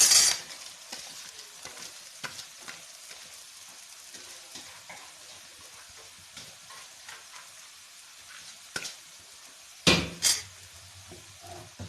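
Partly cooked rice is stir-fried in a pan for egg fried rice: a quiet, low sizzle with sporadic scrapes and clicks from the spatula, plus a couple of sharper knocks near the end.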